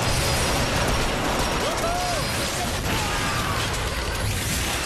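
Rockets exploding in the Transformers: Fall of Cybertron video game, a dense, continuous roar of blasts and bursts that fills the whole stretch at steady loudness, with a voice talking over it.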